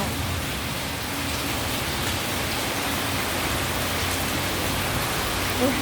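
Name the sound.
heavy rain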